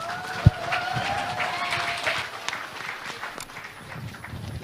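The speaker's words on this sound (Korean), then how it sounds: "여러분 큰 박수로 맞아주시기 바랍니다." An audience at a Liberty Korea Party convention candidates' debate claps in steady, moderate applause that fills the hall, slowly thinning toward the end.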